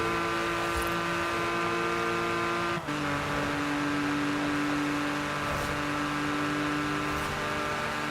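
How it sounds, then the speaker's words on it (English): A Mercedes car engine in the racing video game Forza Horizon 4 drones at a steady pitch, with a sharp shift in tone partway through as it changes gear, then holds on without any talk. "One of them's a Mercedes, I think, by the sounds of its engine."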